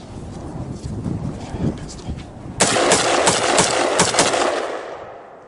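Firearm fitted with a muzzle device fired outdoors, a loud sharp report midway followed by a burst of further shots and echoing tail, with engine-like rumble and voices beforehand.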